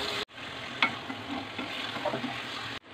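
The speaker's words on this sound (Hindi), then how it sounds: "ये डाल देंगे और इसको अभी हमने फ्राई करना है।" Chicken and tomatoes frying in a kadai, a close, continuous sizzle with stirring scrapes and a few spoon clicks, starting and ending abruptly, no voices.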